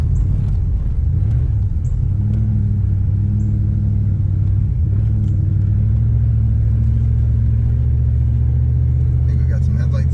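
A 1984 Chevrolet Camaro Z28 with transmission slippage idles with a steady, close, deep engine rumble and a low hum that holds for the whole stretch, and people talk nearby.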